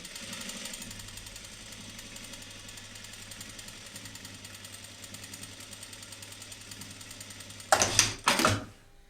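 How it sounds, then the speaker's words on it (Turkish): Sewing machine stitching a pajama cuff, a steady rapid mechanical chatter running throughout at moderate level, ending in two louder bursts of clattering near the end. "iğneyi çıkartmadan dönüyorum arkadaşlar bu şekilde yukarı doğru bir dikiş daha atıyorum"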